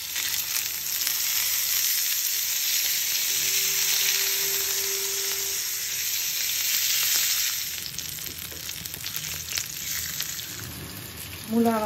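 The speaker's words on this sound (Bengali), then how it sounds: "মাছের ভিতরে হলুদ আর লবণ দিয়ে মাছটাকে ভাজবো" Fish rubbed with turmeric and salt frying in a pan at home, a loud continuous hiss and crackle of hot oil holding steady, with faint background hum and a brief tonal whine near the end.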